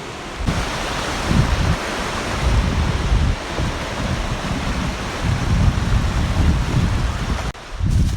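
The Pourcheyrolles waterfall, a broad, steady roar of falling water that fills the scene, loud and continuous with a slight rise and fall in intensity.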